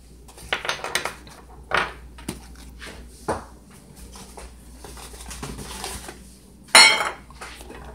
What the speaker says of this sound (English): I would just mix it up. Whisk it usually.